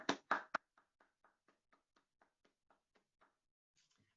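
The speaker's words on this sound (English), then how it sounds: "Apologies if the applause seems a little bit lonely here in my bedroom" One person claps alone in a bedroom for a graduation award: a few loud claps at first, then a steady run of softer, evenly spaced claps that die away, followed by faint handling noise.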